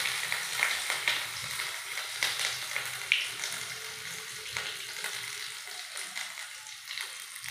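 Panch phoron spices and ginger sizzle steadily in hot frying oil for a niramish vegetable curry, a continuous crackling hiss with small pops and occasional utensil clinks, close by and with no one talking.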